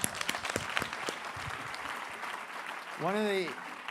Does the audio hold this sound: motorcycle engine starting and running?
no